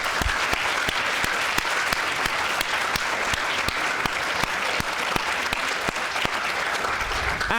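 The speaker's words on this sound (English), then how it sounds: "Can we please have a massive round of applause" Awards ceremony crowd applauding highly commended student union award nominees, a sustained, even roar of clapping from a large audience, with sharp louder claps popping out at a regular pace throughout.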